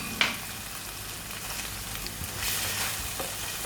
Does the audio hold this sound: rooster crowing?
no